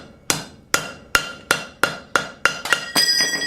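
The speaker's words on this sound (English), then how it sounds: "So we'll hammer that to where you got a nice flat square corner." A hammer forges metal on an anvil: about nine sharp, ringing blows land at an even pace, quickening near the end, each leaving a bright metallic ring behind it.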